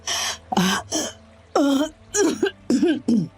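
A series of short, throaty coughs comes in separate bursts, close and fairly loud, with brief pauses between them.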